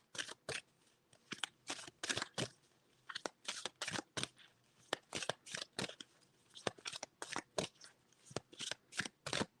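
Oracle cards from a Seasons of the Witch Samhain deck shuffled in quick, crisp riffling bursts, dozens of close papery flutters in an irregular rhythm with short gaps between, no talking.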